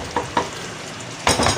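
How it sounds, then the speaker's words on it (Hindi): Tomatoes fry in oil for bhindi gosht, a close hiss punctuated by two quick spoon stirs and a longer scrape at the end. "अब ये भून रहा है, तेल ऊपर आता है"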